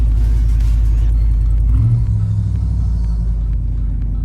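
A high-mileage Ford Raptor pickup truck engine idles with a deep, steady, loud rumble that stays close and constant throughout, with a brief swell in tone partway through and no talk over it.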